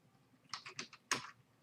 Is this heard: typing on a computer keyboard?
yes